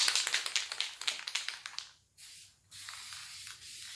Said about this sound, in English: I'll give it a quick spray and you can just watch me do it.